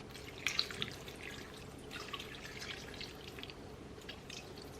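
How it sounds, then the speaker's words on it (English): Water pours into a cup in a home kitchen, a close, light splashing trickle with a few brighter drips near the start, then a softer steady run. "I'm just gonna pour some water in a cup and add some."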